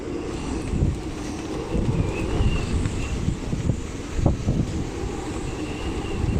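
Strong wind gusts buffet a sailboat crossing the wind corridors between the Canary Islands, a loud, continuous roaring rush with surging peaks and rumbling microphone buffeting, no voices.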